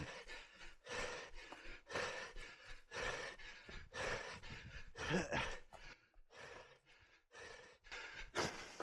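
A runner breathes hard and rhythmically while climbing a steep hill at Lullingstone parkrun in Kent: close, loud, ragged gasps and exhales in a steady series, with no talk.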